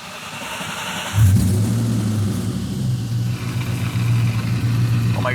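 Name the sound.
car engine starting and revving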